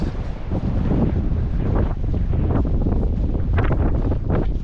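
Strong wind gusting across the microphone on a coastal clifftop walk between Tintagel and Boscastle in Cornwall: a loud, constant roaring buffet that surges and dips with no voices.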